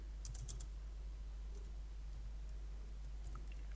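A revision number typed on a computer keyboard makes a short burst of quiet, close key clicks near the start, then a few faint scattered taps over a steady low hum.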